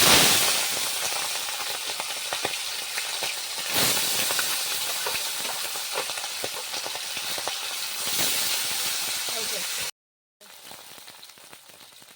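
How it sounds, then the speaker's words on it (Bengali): Tangra fish fry in hot mustard oil in a kadai, giving a loud, steady sizzling hiss with crackles throughout, cut by a brief break near the end. "ট্যাংরা মাছগুলোকে ভেজে নেব এক এক করে।"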